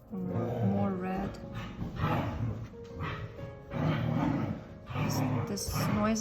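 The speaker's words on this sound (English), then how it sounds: "These noises are from my dogs" Several dogs bark, whine and yelp excitedly while waiting to be fed, loud bursts with short gaps, close by and filling most of the stretch.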